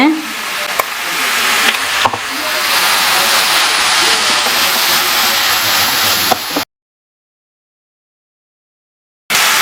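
Food sizzles loudly in a hot pan with occasional scraping clicks of stirring, then cuts to silence before resuming briefly.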